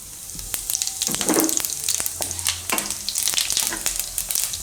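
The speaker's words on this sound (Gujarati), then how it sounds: "તો તેલ આપણું ગરમ થઈ ગયું છે, એમાં પહેલાં જીરું નાખીશું" Cumin seeds sizzle and crackle in hot oil in a Gujarati kitchen, a continuous frying hiss with sharp pops and some stirring clatter, close and moderately loud.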